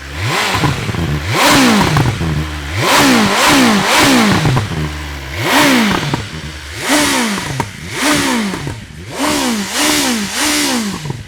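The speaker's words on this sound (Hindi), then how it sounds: "उन्हें सबसे पहले तो एक ही एस्पेक्ट के बारे में जानना है, और वो है इसके एग्जॉस्ट नोट। तो वो सुनाते हैं आपको।" A BMW S 1000 RR sportbike exhaust revs repeatedly and loudly at close range, with a series of sharp throttle blips climbing and falling in pitch over a rumbling idle and no talking.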